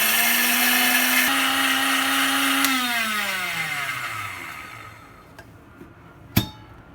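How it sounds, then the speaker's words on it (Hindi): An electric grinder whirs loudly at a steady high pitch while grinding white sugar into fine powder, then the motor cuts off and winds down, ending with a couple of light clunks. "इस मशीन के अंदर ये हमने चीनी ऐड कर दी। अब इसे बिल्कुल बारीक पीस लेंगे हम।"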